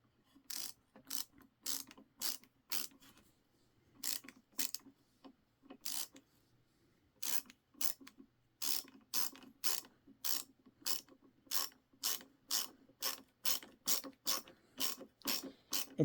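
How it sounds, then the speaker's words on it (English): A Milwaukee ratcheting screwdriver driving a screw: close, crisp ratchet clicks in rapid bursts, pausing briefly between strokes and growing steadier and faster toward the end, with no talking. "We're just gonna go screw and test the strength of the ratcheting system."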